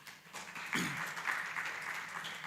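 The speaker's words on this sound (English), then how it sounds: "Let's clap for him, please." Audience at a trade and sustainable development workshop clapping for a speaker, a brief burst of moderate indoor applause that swells slightly and then holds steady.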